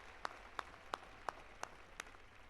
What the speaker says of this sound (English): Another round of applause here, ladies and gentlemen.